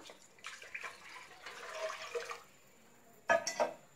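Water splashes and pours into a metal pressure cooker in short bursts, with a brief louder pour near the end.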